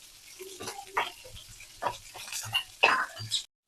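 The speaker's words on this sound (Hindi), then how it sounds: "अब इसमें हमें मिलाना है ओनियन और कैप्सिकम। इनको भी कलर चेंज होने तक भूनना है।" Onion and capsicum fry in a pan for chilli paneer, giving a soft sizzle broken by intermittent stirring scrapes and clatters that come in short bursts close by, with no talking.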